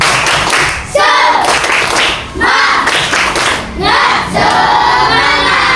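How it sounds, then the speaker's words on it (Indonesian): A school class claps out the rhythmic 'tepuk semangat' chant in unison, loud clap patterns mixed with shouted group voices, repeating in several bursts. "maka kita tepuk semangat dulu"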